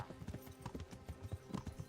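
Horse hooves clip-clopping in the medieval video game Kingdom Come Deliverance, a steady rhythmic trot of close, crisp hoof strikes running through the whole stretch with no talking.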